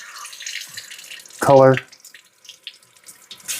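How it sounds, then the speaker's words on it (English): Warm water runs through an Aqua Bliss SF100 shower filter as a steady hiss, and one short spoken word cuts in partway through. "I'm running warm water through it."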